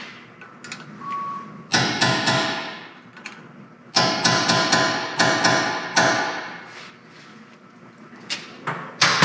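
A hammer strikes a metal part to flatten it during Roxor axle shaft reassembly. The blows are sharp, close and loud, coming in quick bursts of several hits with short pauses between.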